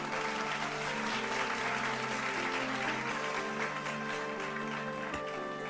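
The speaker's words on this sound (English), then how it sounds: "I can, like, hear every individual clap in that sound." Applause sound effect playing under a steady musical drone, a soft, even patter of many claps held at constant low level throughout, with a faint tone sustained beneath it.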